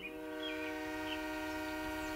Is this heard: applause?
no